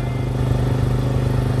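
Dirt bike engine idling or running steadily with a rough, low, pulsing drone, close and continuous for a brief moment, in the Leh Ladakh mountains.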